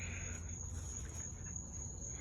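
Crickets chirp in a steady, continuous high trill through the night air, with a faint low rumble underneath and no talking.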